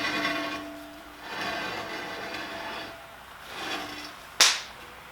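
Lexus LS 460 brake caliper rubbing inside a too-small wheel, a rising and falling scraping swish repeating with each wheel turn, followed by a sharp brief squeal near the end, no talking.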